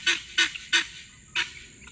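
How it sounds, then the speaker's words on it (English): Guinea fowl call outdoors in four harsh, honking squawks, three in quick succession and then one after a short pause. "So, these are the last guineas that I have, and I hope that I get to keep them."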